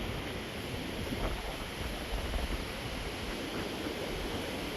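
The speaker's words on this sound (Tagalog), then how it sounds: "puro ang lakas ng hangin" Strong wind buffets an outdoor spot in the UK, a continuous loud broadband roar with rumbling gusts pressing on the microphone throughout, no voices heard.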